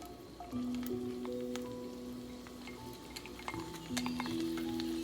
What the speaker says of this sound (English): So I'm stir frying that all together.